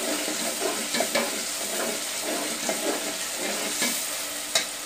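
Spices and masala fry in a pan with a steady, moderate sizzle and crackle, broken by a few sharp stirring scrapes, alone with no talk.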